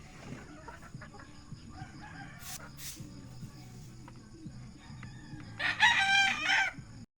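Hens clucking at a game farm with soft scattered calls and rustling, then a rooster crows loudly near the end, with faint talk in the background.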